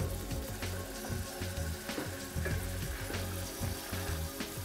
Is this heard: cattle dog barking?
no